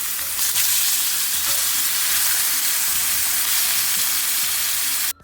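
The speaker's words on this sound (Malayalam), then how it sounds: "ഇനി നമുക്ക് ഒരു അയൺ സ്കില്ലറ്റ് എടുത്തിട്ട് കുറച്ച് ഒലിവ് ഓയിൽ ഒഴിച്ചിട്ട് ഇതിനകത്തോട്ട് ഇട്ട് കൊടുക്കാം." Beef steak frying in olive oil in an iron skillet, a loud dense continuous sizzle and crackle that holds steady throughout before cutting off abruptly near the end.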